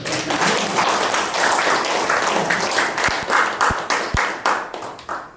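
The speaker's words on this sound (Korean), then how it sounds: "다시 한번 박수 주십시오" An audience claps after a Buddhist monk's Dharma talk at a Korean lecture event, dense sustained applause that thins toward the end into a few separate sharp claps.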